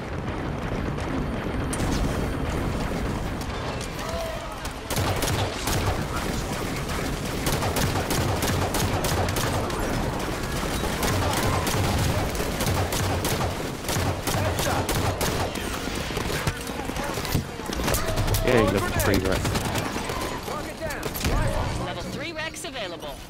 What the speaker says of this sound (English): These phantoms love shooting at me for some reason.